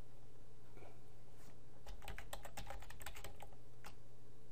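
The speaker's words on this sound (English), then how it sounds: "so in here we're just gonna type in CK editor" Typing on a computer keyboard while entering code: a quick close burst of clicking keystrokes in the middle, with a few isolated taps before and after over a quiet hum.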